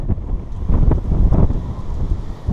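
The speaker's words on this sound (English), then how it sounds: "It's real windy here, so I can't really let go of the camera right now." Strong wind buffets the microphone outdoors at an old cabin site, making a loud, continuous low rumble with gusting swells and no speech.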